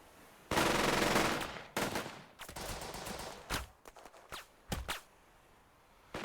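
Gunfire in the WWII tactical video game Burden of Command: a long loud burst of automatic fire, then several shorter rattling volleys and single sharp cracks, with gaps of near silence between them.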